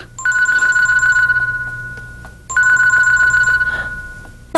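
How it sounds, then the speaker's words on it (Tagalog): A mobile phone rings loudly and close by, playing an electronic ringtone in two repeated bursts of a couple of seconds each, with no voices over it. "nagriling yung phone mo"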